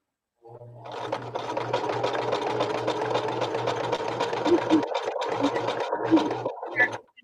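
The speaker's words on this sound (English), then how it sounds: "I'll sew for a minute." A sewing machine runs at a steady speed for about six seconds with a low, even motor hum and a rapid needle chatter. It stops briefly twice near the end and is close and fairly loud.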